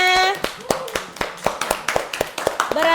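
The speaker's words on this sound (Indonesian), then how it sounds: "Tepuk tangan dulu untuk semuanya." A classroom of children claps together, a quick run of sharp, uneven hand claps lasting a few seconds, fairly close and lively.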